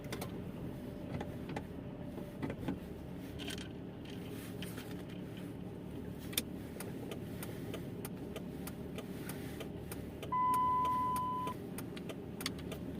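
A car drives along with a steady low engine and road rumble, small interior creaks and rattles, and a brief electronic beep partway through, with no talking.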